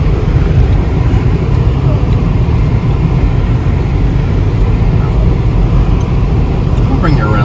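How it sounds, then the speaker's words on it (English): Toyota Land Cruiser crawling off-road over rocks near Arches National Park in Moab, Utah, giving a steady, loud, continuous low engine and drivetrain rumble heard from inside the vehicle throughout, with no clear breaks. "We're in a Toyota Land Cruiser."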